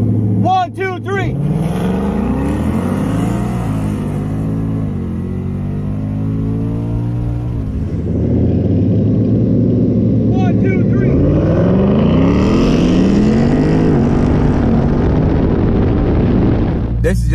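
Stock 2024 and 2020 Ford Mustangs launch from a dig in a drag race, engines roaring loudly and rising in pitch through gear changes, with a second surge of acceleration later; voices talk briefly near the start.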